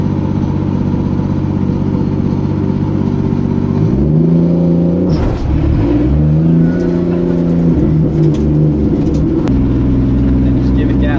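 A 2JZ-swapped 240SX drift car engine idles loud and close, then climbs through several revs with throttle blips and falling pitch between them, a steady mechanical drone running throughout.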